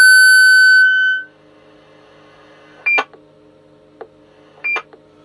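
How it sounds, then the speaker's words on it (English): Roger bleeps from Cobra 148 GTL DX CB radios on FM mode: a long steady tone that fades out, then two short chirped bleeps and a faint click, loud and clear against near silence. "So there's some Roger bleeps,"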